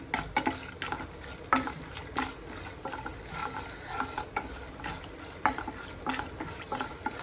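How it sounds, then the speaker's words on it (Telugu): Peanuts and cashews frying in a pan of oil as a tempering for an Andhra jackfruit curry, with repeated scraping stirs and a low crackle throughout, no voices. "పల్లీలు, జీడిపప్పు ఇవన్నీ బాగా వేగాలి"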